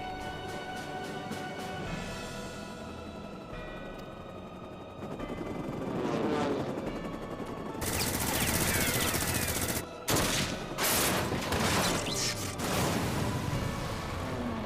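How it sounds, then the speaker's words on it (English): Rapid gunfire and weapon bursts in Final Fantasy XIV, a gunblade firing amid rattling volleys and sharp impacts that grow louder and denser toward the end, with no talk over them. "The fuck kind of gun does that? It's gun blade."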